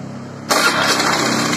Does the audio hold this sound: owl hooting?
no